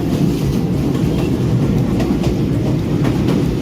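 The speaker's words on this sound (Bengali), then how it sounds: "ট্রেন ছেড়ে দিচ্ছে, এই ট্রেনটা অনেক ফাস্ট।" A fast local train bound for Khulna runs at speed with a loud, steady rumble and a faint clickety-clack of wheels on rails, heard from on board with no voices.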